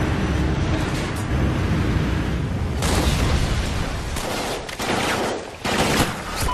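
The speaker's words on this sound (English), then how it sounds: "Friendly Trinity rocket inbound." Trinity rocket strike in a multiplayer shooter, with dense rolling explosions and booming gunfire-like blasts pounding continuously, loud and close, with several sharp impacts near the end.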